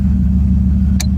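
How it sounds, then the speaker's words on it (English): A 1938 Chevrolet Master Deluxe engine idles steadily after warming up, a close, constant low rumble with an even throb and one brief higher click near the end. "Car's been running for about 10 or 15 minutes now."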